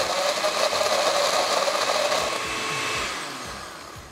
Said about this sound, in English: Blend it till smooth.